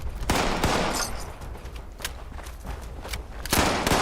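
Gunfire in the video game Fallout 76, several sharp loud shots with a few spaced bursts and quieter pops between them, no talk.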